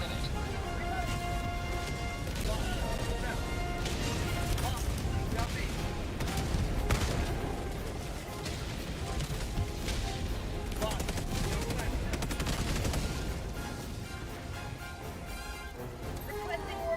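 Autocannon fire in a video game sounds as repeated heavy bursts of shots layered over a continuous background of game music and noise, with battle din running throughout.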